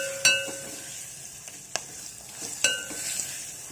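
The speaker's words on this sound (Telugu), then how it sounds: "ములక్కాడ పచ్చిమిరపకాయ వేసుకున్నానండి" Drumstick pieces and green chili frying in a pan for a coriander tomato rasam, giving a soft steady sizzle with a few sharp clinks of a stirring spoon against the pan.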